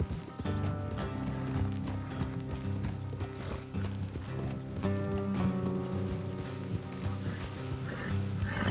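Horses clip-clopping at pace in Red Dead Redemption 2, their hoofbeats steady and mixed with a continuous musical score and other game sounds throughout.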